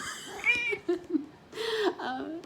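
A cat meows twice, with a long rising and falling cry followed by a second shorter one, close by and fairly clear.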